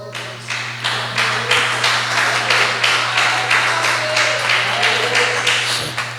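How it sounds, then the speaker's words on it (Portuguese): A church congregation claps together for Jesus during a worship service, a steady rhythmic applause of many hands that swells and sustains for several seconds over a low constant hum of the sound system. "você pode aplaudir a Jesus"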